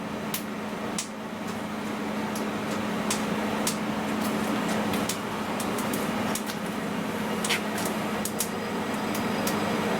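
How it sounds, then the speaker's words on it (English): A laser tube cooler's compressor runs as a steady, loud mechanical hum with a low tonal drone, scattered with faint clicks and ticks throughout, and no one speaking. "I can hear the compressor has just come on"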